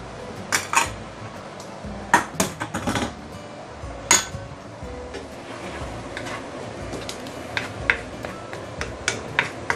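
Chili padi goes into a pan over low heat while making a Guangxi dipping sauce, with sharp metallic clinks and ticks of utensil against pan scattered through a quiet sizzle, several louder taps standing out.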